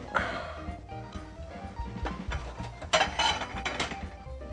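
A plate is handled in a home kitchen while Italian chili is being made. It comes as a close, irregular series of clicks, knocks and light clatters with brief louder clinks partway through.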